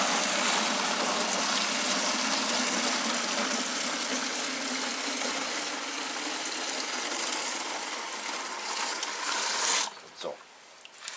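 Water gushes steadily from a canister into a watering can to dilute urine fertilizer, a loud continuous rushing pour for about ten seconds before it stops and brief handling sounds follow.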